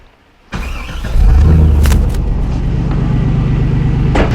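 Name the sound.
car engine running during MAF sensor test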